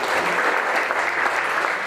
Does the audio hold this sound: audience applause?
yes